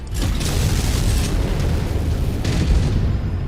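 A destroyed mech explodes in MechWarrior 5 as a loud, sustained boom with a deep rumbling low end, filling the whole moment without any talking.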